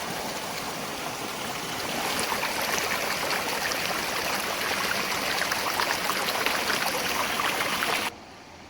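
Rainwater rushes down terraced hillside fields in Uttarakhand after heavy rain, a loud, continuous watery roar like a stream that cuts off abruptly near the end; no voices.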